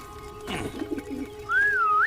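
A few soft, low cartoon pigeon coos, then a bright sliding whistle rising and falling over a steady electronic hum.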